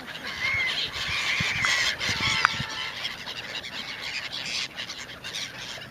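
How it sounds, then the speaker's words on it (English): Pigeons or seagulls by the Rhine near the French-German border, a busy chorus of honking and squawking calls over steady outdoor ambience, one sharp click partway through. "There's some people feeding the pigeons, or seagulls, I guess."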